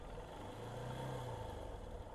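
A motorcycle engine hums at a steady, even pitch for a couple of seconds, close and continuous, holding constant revs without rising or falling.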